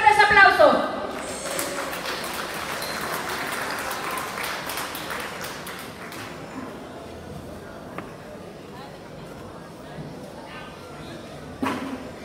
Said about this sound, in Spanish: ¿Para quién pido fuertes aplausos?